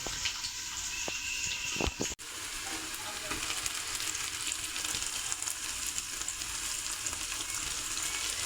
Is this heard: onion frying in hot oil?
yes